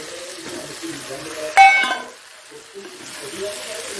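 Eggplant pieces dropped into a hot pan of oil burst into a loud sudden sizzle that fades into steady, quieter frying, with a voice murmuring in the background.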